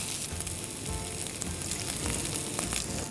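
Rice goes into a hot pan of Schezwan sauce and vegetables for fried rice, giving a steady close sizzle with faint stirring scrapes and no talking.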